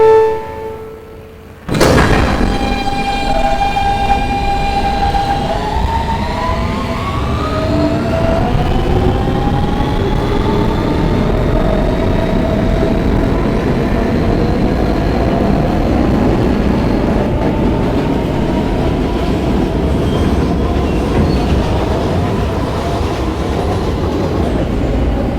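An R160B Siemens subway car on the W line, bound for Bay Parkway via the D line, rolls along steadily with loud continuous track rumble and clickety-clack, rising whine as it accelerates after a brief quiet start.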